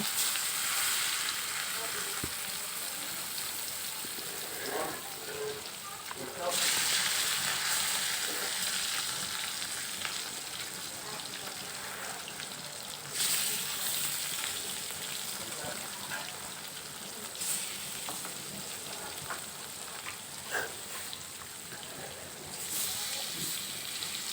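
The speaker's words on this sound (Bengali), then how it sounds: "কড়াইতে সরিষার তেল দিয়ে দিলাম এরপরে মাছের পিসগুলো এক এক করে দিয়ে দেবো" Fish pieces sizzle in hot mustard oil in a kadai wok: a loud, steady, close frying hiss that swells in brief bursts as pieces are added or shifted, with no voices.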